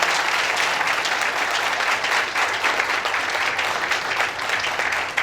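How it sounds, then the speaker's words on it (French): Renewed, louder applause from a staff audience for partners at a company annual meeting and party, dense steady clapping from a large room sustained without pause. "Je vous demande une fois d'applaudir tous nos partenaires"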